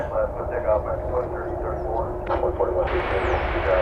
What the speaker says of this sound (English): It's an Airbus A320 coming in.